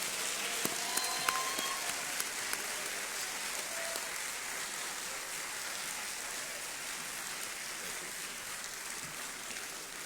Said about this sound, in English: normally the applause for people who pray for us lasts a little longer